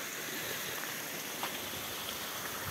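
Natural spring water flows from a village fountain in Yenice, Bursa, a steady soft splashing and trickling that runs continuously, moderately quiet with no speech.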